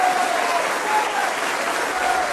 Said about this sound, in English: Let us bring him on with a round of applause